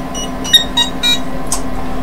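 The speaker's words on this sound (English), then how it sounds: "Oh, there goes my timer." A timer going off during a Hearts of Iron 3 gaming session, a few faint, short electronic beeps spaced irregularly over a low steady hum.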